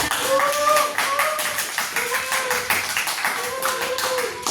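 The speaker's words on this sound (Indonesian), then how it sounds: "tepuk tangan semuanya" Students in a classroom clap together in a burst of applause, with quick uneven hand claps sounding close and fairly loud over a few seconds while voices call out around them.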